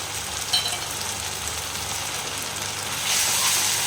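Ginger, garlic and chilli paste frying in oil for a mutton curry with potato makes a continuous close hiss and sizzle, swelling louder near the end, with a faint stir early on.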